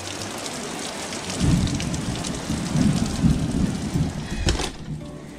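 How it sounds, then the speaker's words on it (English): Heavy rain pours steadily on a surface outdoors, with low rolling thunder rumbling underneath for several seconds, loud and continuous. "Let's show you guys how much it's raining."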